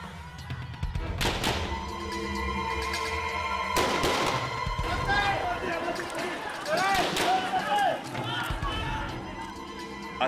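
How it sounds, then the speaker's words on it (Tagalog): Several sharp gunshots crack out one after another, spaced a few seconds apart, amid a noisy, crowded scene with voices. "Umalingaw-ngaw ang sunod-sunod na putok ng mga baril."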